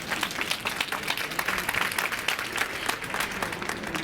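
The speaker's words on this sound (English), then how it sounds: "please give me a round of applause" Audience at a conference session on African broadband applauding, a steady patter of many hands clapping at moderate distance for a few seconds, without voices.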